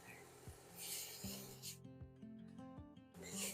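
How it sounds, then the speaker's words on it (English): Garlic cloves being grated by hand on a kitchen grater give quiet, repeated rasping scrapes in a steady back-and-forth rhythm, with faint background music. "I don't have a garlic press and I have a grater, so I just always grate it"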